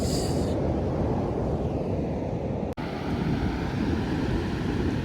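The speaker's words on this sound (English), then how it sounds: "What's incredible about the beach is that the waves, like this is like my own private little show." Ocean waves wash onto a beach in a steady, broad hiss, with wind buffeting the microphone throughout and a single brief dropout partway through.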